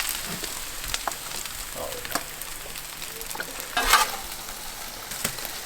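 Hash brown potato sections fry in a pan, a soft, steady sizzle broken by occasional stirring scrapes and clinks, fairly quiet and close.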